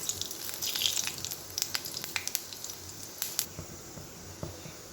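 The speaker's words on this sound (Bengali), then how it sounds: "এবার এই তেলের মধ্যেই আমি এই যে পাঁচ ফোড়ন আর একটা শুকনো লঙ্কা দিয়ে দেবো" Panch phoron and a dried red chili crackle in hot oil left over from frying fish-roe fritters, sharp pops and spits scattered over a soft, steady sizzle close by.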